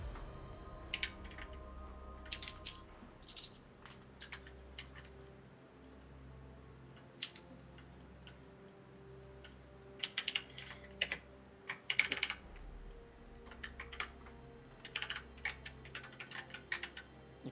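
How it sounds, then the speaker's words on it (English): A loud computer keyboard clatters with bursts of fast key clicks and taps, coming and going in uneven runs over a low, faintly pulsing hum. "Your keyboard's really loud, Jackson."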